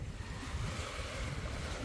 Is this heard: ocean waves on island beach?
yes